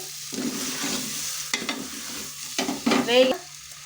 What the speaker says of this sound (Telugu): కొంచెం సిమ్లో పెట్టేసి వేపుకోండి